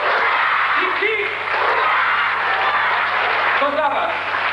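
An audience applauds a band after a performance, a steady wash of many hands clapping that holds at an even level throughout, with voices faintly heard beneath it.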